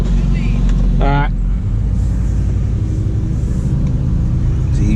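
A Chevrolet Impala SS rolls down the road with a deep, steady engine rumble, heard close up from inside the car, while people talk over it.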